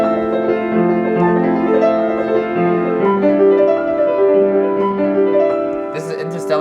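Solo piano plays a film theme, a steady repeating figure of sustained chords and overlapping notes that rings on evenly at moderate loudness throughout.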